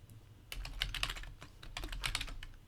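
Quick bursts of key clicks on a computer keyboard as a username is typed, two short clusters of close, crisp tapping separated by a brief pause, with no talk.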